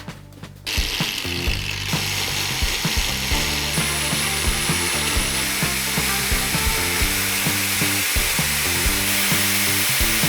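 Bosch GWS 17-125 angle grinder spinning up and running at full speed, a loud steady high whine with a rhythmic mechanical clatter that continues unbroken after startup.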